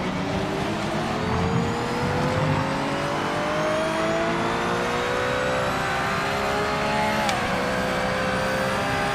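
A Porsche races in a driving video game, its engine holding a steady high-revving drone with rising pitch as it accelerates, one brief sharp shift near the end, loud and continuous with no talk over it.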